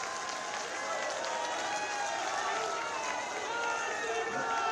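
Crowd applause at a public rally in the Nainital Lok Sabha constituency, Uttarakhand, welcoming a speaker: a dense, steady wash of many hands clapping that holds evenly throughout the stretch.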